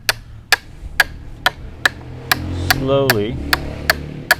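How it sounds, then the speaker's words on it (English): A wood chisel is struck with evenly spaced, sharp knocks about twice a second while chopping a joint for a spindle stool. The strikes are close and crisp, and a brief voice speaks partway through. "So when you're chopping like this, make sure you hold it a little bit further back, because you kind of want to have a nice handle of the chisel"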